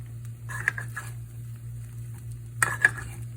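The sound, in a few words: stirring rice in a pot for arroz con gandules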